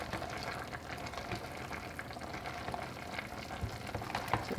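Pears, green beans and bacon frying in a pan while being stirred, a soft steady sizzle with light scraping and clinks, fairly quiet.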